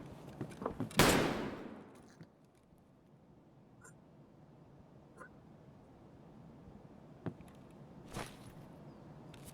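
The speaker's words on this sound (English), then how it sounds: "Where the hell are you shooting?" Gunfire in the space game Dual Universe, a loud burst of shots near the start followed by scattered, fainter single cracks over a quiet hum, with a final sharp shot toward the end.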